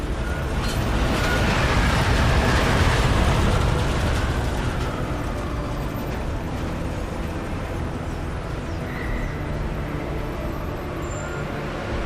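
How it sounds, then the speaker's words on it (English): A train arriving at a station in the video game Deus Ex Mankind Divided: a loud, continuous rumbling roar that swells early and then settles into a steady mechanical hum, with a faint high whine. "Just getting off the train now."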